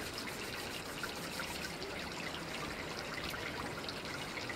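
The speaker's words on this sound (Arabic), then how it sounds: "هذه عين مية" Water from one of the natural springs of al-Walaja near Bethlehem trickles and gurgles in a steady, close stream, a continuous liquid wash with no voices over it.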